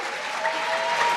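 Brief burst of audience applause at a dinner event, steady and moderately loud for about a second, with faint whoops rising over the clapping.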